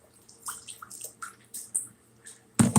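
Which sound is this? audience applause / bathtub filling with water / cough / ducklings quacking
bathtub filling with water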